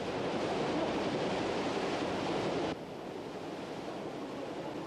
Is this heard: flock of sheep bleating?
no